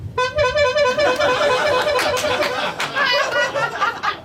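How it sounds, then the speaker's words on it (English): A horn honks in repeated bursts, loud and close, while people laugh and chatter over it in a tavern during a comedy set. "I'm a 60-year-old man with a horn in his underwear"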